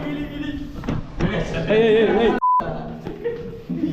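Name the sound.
censor beep sound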